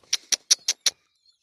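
Five short, bright chirps in an even rhythm, close by, followed by quiet.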